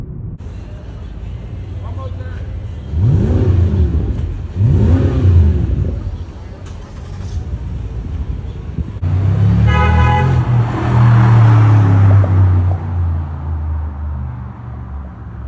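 Ferrari 812 Competizione V12 cruising top-down on a hot Dallas road, its engine droning and swelling through a few revving pulls under steady road noise, with people talking over it.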